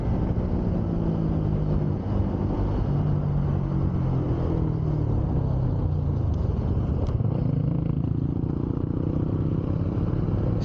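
Continuous engine drone of a moving motorcycle with wind rumble, pitch rising and falling as it changes speed.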